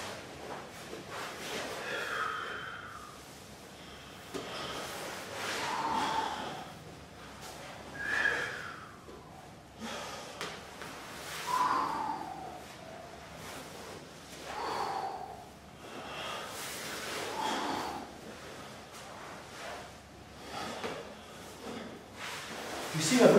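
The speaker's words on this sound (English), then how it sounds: "Show you again, watch my breathing." A martial arts instructor breathes audibly during a pressure top game demonstration, forceful exhalations and snort-like breaths repeating every few seconds, close to the microphone, with no talking.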